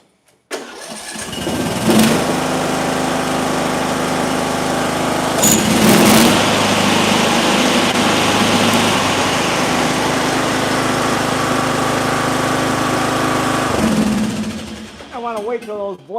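A small lawn mower engine with a bagger fitted starts with a quick pull and runs steadily at a loud, even drone for over ten seconds, then cuts off and winds down.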